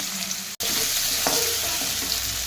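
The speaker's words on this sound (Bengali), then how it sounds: "তেলেই আলুগুলো আগে ভেজে নেব।" Potatoes frying in hot oil in a cooking pan give a steady, close, even sizzle with no break except one very short dropout near the start, and no one speaks.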